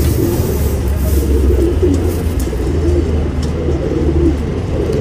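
A Dhuma Patta pigeon coos in low, steady, repeated calls that run through the whole stretch over a constant background hum.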